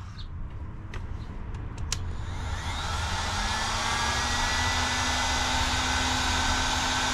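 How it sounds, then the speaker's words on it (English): A heat gun starts with a few clicks, then blows a steady, loud whooshing stream of hot air with a whining hum underneath, used while converting a Peugeot Boxer L2H2 van into a campervan. "we got our heat gun"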